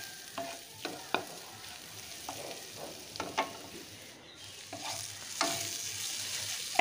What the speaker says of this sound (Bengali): এখন এই উপকরণগুলো একটু ভালো করে মিশিয়ে নিচ্ছি পেঁয়াজ টমেটোটার সাথে, দিয়ে আর 2 মিনিট মতন আর একটু আমি এটাকে কষিয়ে নিচ্ছি।